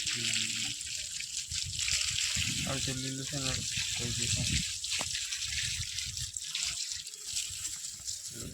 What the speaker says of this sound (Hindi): पानी चालू करती